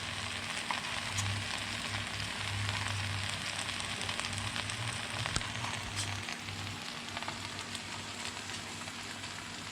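Steak stir fry sizzles steadily in a hot pan with a dense, continuous crackle and occasional sharper pops, close and fairly loud, with no voices.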